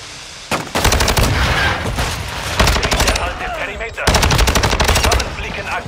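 Rapid automatic fire from the HCR56 light machine gun in Call of Duty MW2 rattles loudly in three long bursts separated by brief pauses, close and dominant, with a player's voice faintly under the shots.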